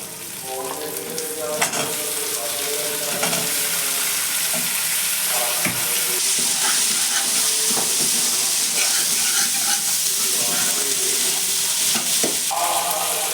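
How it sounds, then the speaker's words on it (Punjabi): Onions and potatoes fry in a pan for a tamarind kadhi, with a steady hiss of sizzling and repeated scraping clicks of stirring; the sound is close and continuous, with no talk. "ਪਿਆਜ਼ਾਂ ਨੂੰ ਆਪਾਂ ਗੁਲਾਬੀ ਹੋਣ ਤੱਕ ਭੁੰਨਾਂਗੇ ਜੀ"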